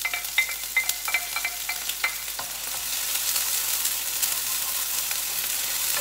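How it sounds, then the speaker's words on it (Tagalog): Spring onion sautéing in hot oil in a pan, with a run of quick tapping stir strokes at first, then a steady, close sizzle that fills the rest. "igisa natin yung spring onion"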